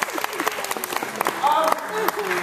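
Audience applause at a live science evening show, a brief burst of clapping from a seated crowd with the host's voice speaking over it.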